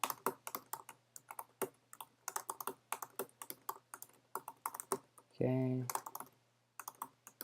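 A WordPress username and password being typed on a computer keyboard: close, quick runs of clicking keystrokes with a brief pause and a short spoken word, faint overall.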